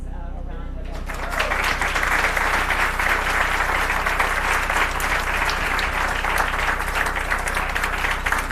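Audience at a cultural center concert of Arabic music breaks into sustained applause for the musicians, a dense, even wash of clapping that starts abruptly after a quiet moment and holds steady.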